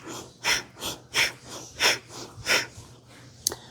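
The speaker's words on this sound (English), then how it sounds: "Inhale and exhale." Pranayama breathing in a longevity exercise class, six or seven strong rhythmic breaths drawn and pushed out through the nose in an even pulse, close and clear with no talking.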